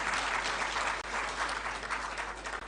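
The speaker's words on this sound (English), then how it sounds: "A round of applause," Steady audience applause at a formal state gathering in Ghana, a dense wash of many hands clapping continuously at a moderate distance, with no voices over it.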